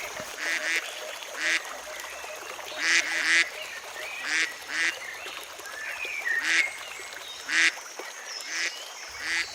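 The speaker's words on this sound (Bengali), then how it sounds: "প্রথম দৃষ্টিতেই এক ঝাঁক বুনো হাঁসও দেখতে পেলুম" A flock of wild ducks quacks at a pond in short, repeated bursts of nasal calls, fairly clear and evenly spaced against a quiet background.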